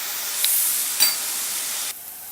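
Masala with chilli powder sautés in a pan, giving a soft steady hiss with a couple of brief sharper spits before it drops quieter near the end.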